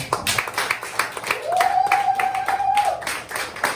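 Church congregation clapping in rhythm to acclaim Jesus Christ: steady, brisk hand claps repeat close and loud, with a sustained voice or tone rising over the middle of the clapping.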